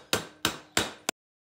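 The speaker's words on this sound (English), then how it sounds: "turn the strut over and hit the air spring with a hammer" A hammer strikes the air spring on an upturned front strut from a Mercedes ML350 GL, three sharp, evenly spaced metallic blows and then a short fourth tap before silence.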